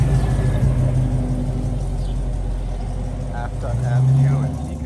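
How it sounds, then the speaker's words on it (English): Cars pass along a Toronto street corner at Afton Avenue and Beaconsfield, a continuous close road rumble with engine swells rising toward the end, people talking over it. "The cars come out."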